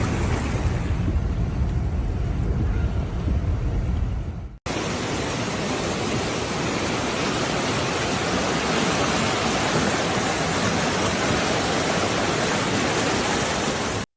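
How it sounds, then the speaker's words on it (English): Rushing flash flood water in Redding, California roars as a loud, steady broadband torrent, close and unbroken, with a brief cut partway through. "Flash floods are dangerous because they give you no time to correct a mistake."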